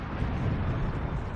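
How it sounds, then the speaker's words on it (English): A loud explosion in the distance in Siberia comes through as a deep, dull rumbling roar that holds steady for a moment, with no voices. "suddenly you hear a loud explosion from the distance"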